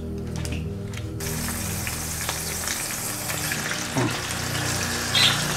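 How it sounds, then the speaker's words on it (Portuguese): Boiled chicharros fry in olive oil with a steady, close hiss of sizzling fat, broken by a brief splash and a few faint clinks near the end. "Agora para fritar,"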